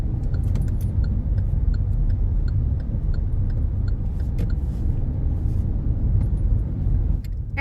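Steady road rumble of cars moving through dense highway traffic with weaving vehicles, heard from inside a car as a continuous drone with faint ticks and jingles, no talking.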